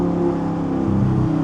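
A gated Audi R8 V10 with a Valvetronic exhaust holds high revs in a short, loud, steady engine wail full of layered harmonic tones, heard alone without speech.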